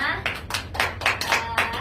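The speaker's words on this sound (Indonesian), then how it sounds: "Tepuk tangan untuk kita semua." A quick burst of clapping from a small group of students in a classroom, with sharp, irregular hand claps under faint background voices, lasting under two seconds.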